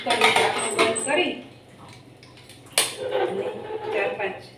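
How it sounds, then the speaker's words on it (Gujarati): A metal pressure cooker lid is set on and closed over khichdi, giving a sharp clank near the end among softer pot-and-utensil knocks while someone talks over it. "હવે કુકરનું ઢાંકણું બંધ કરી"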